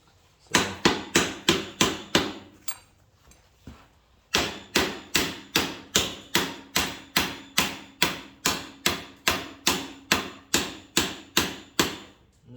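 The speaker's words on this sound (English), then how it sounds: "I'm just gonna tap it until we see that our bolt hole is clear" A hammer strikes a clutch part on a Massey TO-30 tractor in sharp, evenly spaced metallic taps, about two per second, pausing briefly before the steady close-up rhythm resumes.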